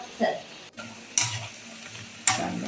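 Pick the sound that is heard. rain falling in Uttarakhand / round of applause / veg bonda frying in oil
veg bonda frying in oil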